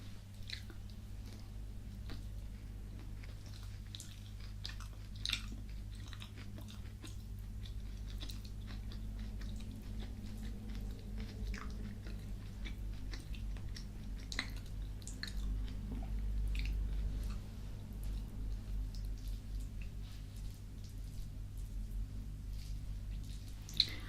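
Close, soft chewing of salads made with bulgur, with moist squishy bites and small crunches repeating throughout over a quiet low hum, no talking.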